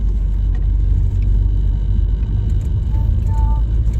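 A car drives along with its door left open, giving a steady, loud low road rumble and engine drone throughout, with a few faint higher tones near the end.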